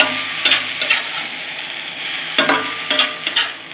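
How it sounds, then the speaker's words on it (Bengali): Jute leaves being stir-fried in a pan: a soft continuous sizzle broken by sharp spatula scrapes and taps against the metal, several irregular strikes close by. "তখন পাট শাকটা আমি ভাজা ভাজা করে নেব"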